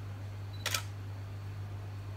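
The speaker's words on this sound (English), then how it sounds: "I'll take a picture at ISO 100." A DSLR camera shutter fires once at aperture f/3.5, 1/100 s and ISO 100 while shooting reef photography. It makes a single crisp, close mechanical click over a steady low hum, with no voices.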